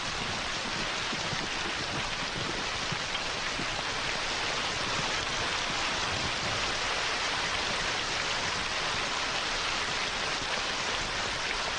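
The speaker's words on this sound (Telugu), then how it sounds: "వానెప్పుడు ఆగదు, చీకటి పడుతుంది." Heavy rain pours down in a steady, dense hiss that stays loud and constant throughout, with no voices over it.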